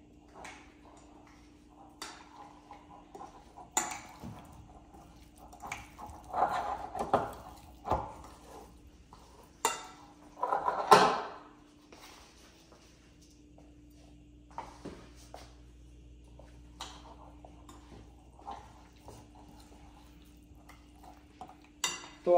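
Paneer cubes are tossed and mixed with a crisp coating in a bowl: intermittent scraping, soft rustles and light clinks of a spoon against the dish come in uneven bursts, louder in the middle and quieter toward the end.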